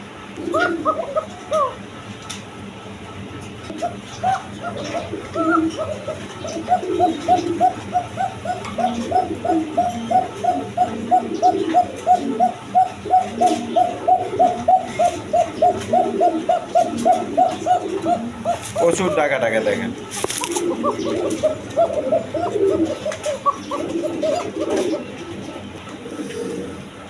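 A long run of rhythmic pigeon cooing, steady and fairly loud, comes from a loft of coloured breed pigeons, including a laying female, with a person speaking briefly near the end.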